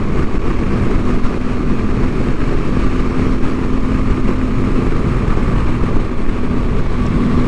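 An Aprilia Tuareg 660 adventure motorcycle being ridden on tarmac through sweeping bends gives a steady, loud engine drone with wind rush, holding an even pitch for the whole stretch.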